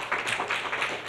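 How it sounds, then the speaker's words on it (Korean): A seminar audience claps to welcome a lecturer on real-estate project-financing risk, producing dense, steady applause that fills the room throughout. "여러분 큰 박수로 맞이해 주시기 바랍니다."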